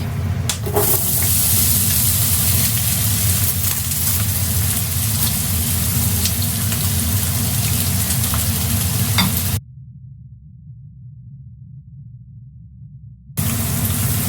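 Chopped onion frying with cinnamon, cardamom and cloves in a pan, a loud steady close-up sizzle with stirring, dropping away for a few seconds before returning.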